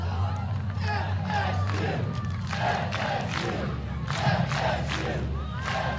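Florida State fans cheering at a women's college soccer match against NC State, a broad, steady roar of crowd voices with shouts rising and falling, and a commentator-like voice mixed in.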